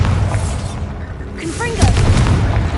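A Bombarda blasting spell from Hogwarts Legacy sounds as a single booming blast with a sharp magical zing and a resonant rumble, loud and close.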